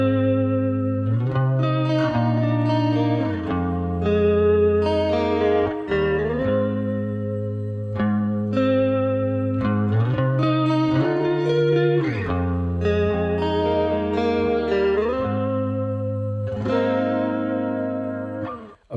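Heavily processed electric guitar with chorus, distortion and reverb plays a melodic chord progression. Sustained, shimmering notes ring out with echoing tails for about nineteen seconds, alone and without talk.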